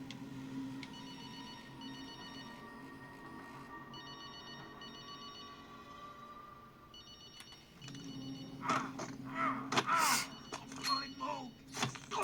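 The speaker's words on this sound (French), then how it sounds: "Décroche ce putain de téléphone." A telephone rings in Call of Duty: Modern Warfare 2, giving repeated electronic bursts with short gaps that sound fairly faint, before louder game noise and movement take over near the end.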